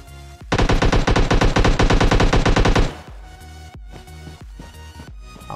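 A long, loud automatic rifle burst rattles rapidly in the PUBG battle royale game, then stops and gives way to a handful of spaced single gunshots, with no speech.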